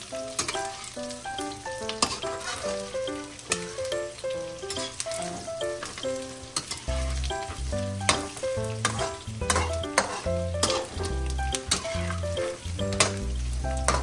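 Bicol Express fries and is stirred in a pan, a soft broadband sizzle running beneath louder music with melodic notes and deep bass beats.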